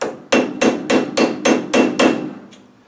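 A hammer strikes a small screwdriver bit to open the staked nut on a Land Rover LT230 transfer gearbox, seven sharp, evenly spaced metallic blows close up, then one faint final tap, with no voices.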